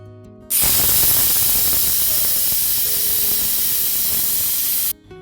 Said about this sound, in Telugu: 8 విజిల్స్ వచ్చాయండి.